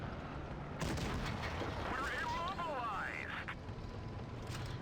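A KV-3 Soviet tier 7 heavy tank in World of Tanks Blitz fires its cannon: a single sharp, loud boom, followed by whistling game effects over a steady background of battle noise.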